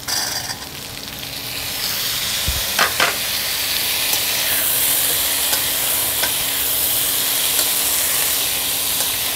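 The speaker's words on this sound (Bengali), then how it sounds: "ভেন্ডি পেঁয়াজ একটু ভাজা ভাজা হয়েছে, এবার আমি দিয়ে দেব সেদ্ধ করা কাবলি চানা" Boiled chickpeas frying in a pan with okra and onion, a steady bright sizzle running throughout with a few sharp clinks and scrapes of stirring, close and alone with no talk.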